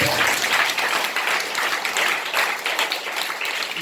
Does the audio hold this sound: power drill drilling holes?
no